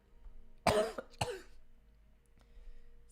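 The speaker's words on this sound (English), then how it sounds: "I need to clear my throat." Two harsh throat-clearing bursts close to the mic, one after another, followed by quiet room tone and a faint click; no talking.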